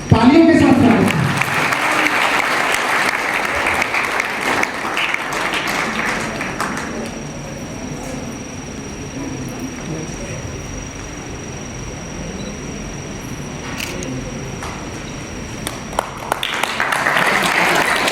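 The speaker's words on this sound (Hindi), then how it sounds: "तालियों के साथ स्वागत है" An audience claps at a school ceremony for class 10 and 12 toppers, a loud burst that eases into a softer, lingering patter before swelling again near the end.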